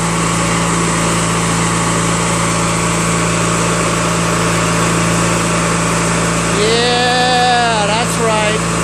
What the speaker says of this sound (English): Engine runs so smooth